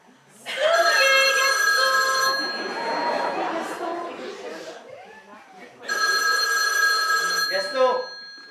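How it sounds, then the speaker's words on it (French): Old telephone bell ringing in long repeated bursts, loud and close, with a pause between rings while people chatter and laugh in the background of a comedic household scene. "Gaston, il y a le téléphone qui sonne."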